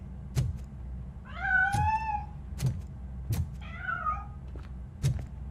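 A cat meowing in the RoboCop: Rogue City video game, two drawn-out meows between sharp thumps and knocks, heard over a low steady game ambience.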